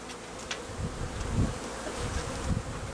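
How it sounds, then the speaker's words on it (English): A dense, steady hum of many honeybees from a newly installed package buzzing together on the frames of a hive box, close and continuous with slight swells in loudness. "All the bees are in here on the frames."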